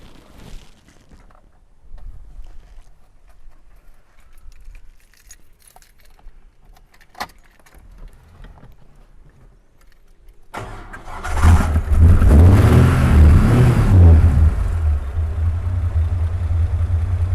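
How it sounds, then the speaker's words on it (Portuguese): Keys jingle quietly in the ignition of a Chevrolet Opala being checked for tappet noise, then the engine cranks and catches, settling into a loud, rough idle with a brief rev that carries on to the end. "vamos ligar aqui seu carro para ver se bate tucho ou não"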